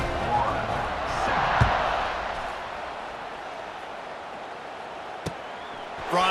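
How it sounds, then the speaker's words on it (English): Stadium crowd murmuring and buzzing in EA Sports College Football 26, a steady broad roar through most of the clip with a couple of sharp thuds, commentary voices mixed in. "this crowd is buzzing after that last score."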